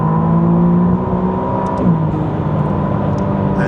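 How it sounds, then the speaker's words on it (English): A 2025 McLaren Artura Spider's engine and turbos heard from inside the car, a loud, steady droning hum whose pitch shifts partway through, with no talk over it. "And those turbos, the way they spool right behind you"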